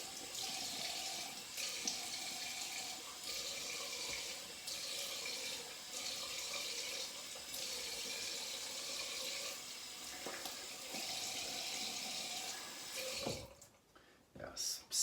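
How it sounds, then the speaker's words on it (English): Cold water runs steadily from a bathroom tap for a rinse after a shave, a continuous hiss with small splashes, before the flow stops near the end. "Do a cold water rinse."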